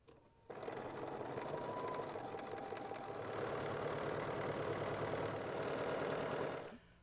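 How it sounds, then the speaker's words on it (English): A sewing machine runs steadily, stitching quilt borders: a fast, even mechanical chatter that starts after a brief quiet moment, holds at a constant close, loud level, then stops abruptly near the end. "I'm going to go ahead and sew these two borders on just like I did the last"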